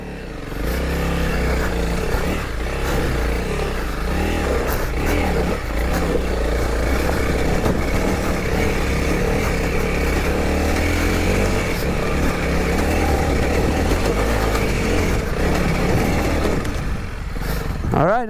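Honda CRF300L dual-sport motorcycle engine pulls steadily in second gear up a technical, rocky uphill trail, a loud, continuous near drone with shifting revs and clatter over rough ground.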